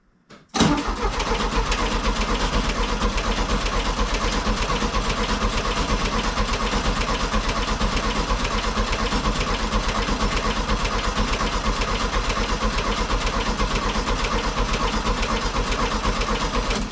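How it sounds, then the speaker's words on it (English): A 1967 Volkswagen 1500cc air-cooled engine cranks on the starter during a compression test, a loud, steady, rhythmic churning that starts abruptly and runs unbroken for about sixteen seconds, close and with no talking. "I'll go crank it one more time."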